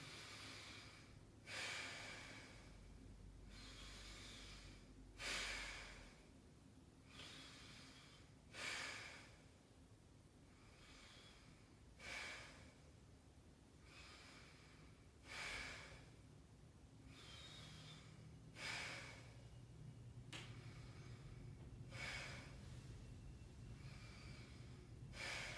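A patient breathes deeply and slowly during a head-to-toe physical assessment, with about ten rhythmic inhale-exhale cycles of close, airy breath noise and no talking.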